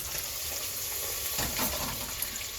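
Bacon frying in its own grease in a pan, a steady close sizzle and crackle running throughout with a brief burst of stirring or spattering partway through.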